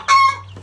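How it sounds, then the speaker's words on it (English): A brief single cluck from a gray-and-red rooster among chicks: a short, sharp, close call, clear against quiet surroundings with a low steady hum. "There's a rooster there that's gray with some red on him."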